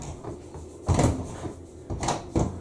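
A Gorenje washing machine door thuds and clicks as someone pushes it shut, with several hollow knocks and bumps close by in a quiet room.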